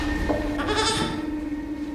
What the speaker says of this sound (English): That's a goat.